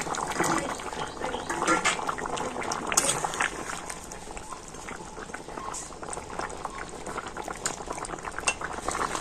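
Fish roe curry with pumpkin and potato boiling in a pot, a continuous bubbling simmer with occasional utensil clinks and stirring, a voice faintly audible at times.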